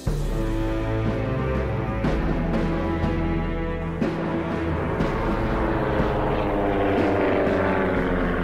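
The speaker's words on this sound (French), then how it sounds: "Le grondement d'un avion met ces centaines de gens au comble de la joie." A Laté seaplane's propeller engine rumbles with a steady, loud drone and strong harmonic tones, arriving over a river crowd at Saint-Louis, Senegal, in 1930; the pitch shifts slightly as it passes.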